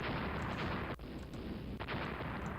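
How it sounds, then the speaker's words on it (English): A warship's guns fire a broadside in a naval game set with Austria-Hungary's fleet: one sharp heavy boom amid rumbling battle noise, followed by a fainter second report, no talk. "How many of our guns are firing right now?"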